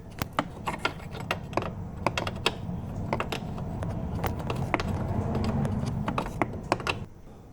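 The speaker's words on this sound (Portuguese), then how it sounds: "O bom é ter aquelas chaves, que é chave de boca, que nem essa aqui, só que ela é de catraca." A ratcheting open-end wrench works on a 2014 Ford New Fiesta suspension, giving rapid, irregular clicking bursts with short pauses over a low background hum, close and fairly loud.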